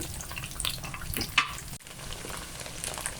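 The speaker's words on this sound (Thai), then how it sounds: "ไฟนี้ใช้ไฟกลางๆนะครับสำหรับทอดเต้าหู้" Cubed tofu fries in oil over medium heat, a fairly quiet, steady crackling sizzle close by, with a brief sharper pop or clink near the middle before the frying settles back.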